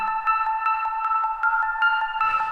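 A bright, bell-like FM sine wave synth pluck with a very short envelope repeats in a quick even rhythm, each note short and clean with a slightly detuned, music-box shimmer, in a hard techno style.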